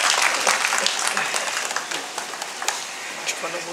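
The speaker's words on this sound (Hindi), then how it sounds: "इसलिए तालियां बजा सकते हैं।" Applause from the audience at a newspaper's foundation-day award ceremony in Bilaspur, a steady wash of many hands clapping at moderate volume, slowly thinning toward the end amid a murmur of voices.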